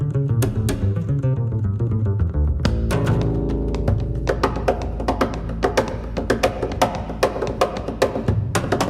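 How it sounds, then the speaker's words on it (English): Percussive double bass playing with dense low plucked notes and sharp slaps and taps on the instrument's body, rhythmic and busy, close and continuous with no voices. "I have to learn percussive double bass"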